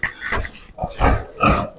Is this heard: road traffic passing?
no